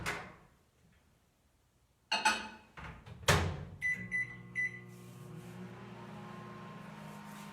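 A microwave oven heating a peanut butter mug cake: a couple of door and latch clunks, a short burst of keypad beeps, then a steady low electric hum that carries on to the end.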